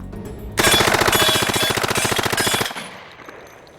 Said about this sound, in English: Feeling more confident, I tried the submachine gun on full automatic.